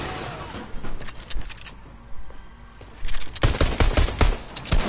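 Pistol gunfire in a shooter video game, with steady quick shots and game noise throughout, a quieter lull in the middle, then a louder cluster of rapid shots near the end.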